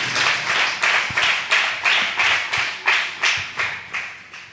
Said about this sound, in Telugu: ఒకసారి గట్టిగా చప్పట్లు కొడుతూ ప్రభు నామాన్ని బట్టి స్తోత్రాలు చెల్లిద్దాం